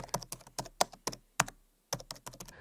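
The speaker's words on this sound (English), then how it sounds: "we go back to the indicator section and type amazing oscillator in the search box" Keys clack on a computer keyboard as a search term is typed, a quick burst of close, crisp strokes, a brief pause, then a second flurry, with no voices.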